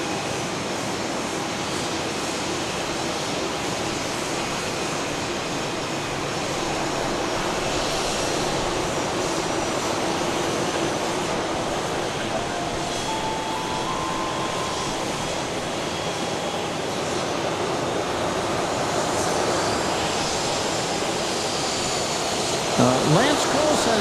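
A Socata turboprop lands at Dallas Love Field, its engine a steady, broad roar that holds throughout with a brief clatter near the end, while voices talk in the background.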